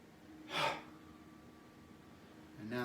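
A single deep breath drawn in during qigong practice, a short airy inhale near the start, close and fairly quiet, followed by near silence and a faint voice beginning at the end.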